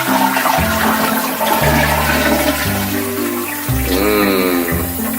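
Water gushing steadily from an old bathroom sink tap in an Osaka apartment, a loud continuous rushing and splashing that shifts in tone as the flow changes.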